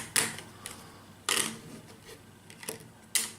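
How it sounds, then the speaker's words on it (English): Cards for a solo board game are shuffled in several sharp riffling bursts at irregular intervals, close and fairly quiet, with no talk. "Let's try and do a better deal of shuffling this time."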